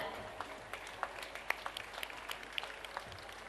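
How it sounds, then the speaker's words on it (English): Parents applauding students at a school annual day ranking ceremony, scattered soft claps from a crowd in a hall, fairly faint and distant with background murmur. "I request parents to encourage the students with your claps."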